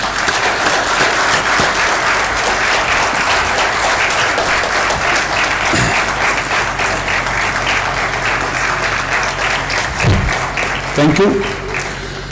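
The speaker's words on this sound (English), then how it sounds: "So I want that I should thank him through a very big clap." A symposium audience on inclusive justice claps in a long, loud, sustained round of applause that fills the hall, with a voice briefly speaking over it near the end.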